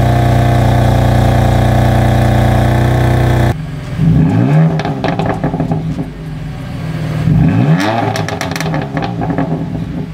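A BMW F80 M3 exhaust starts with a steady loud drone, then gives two sharp revs that rise and fall, close up with no talking.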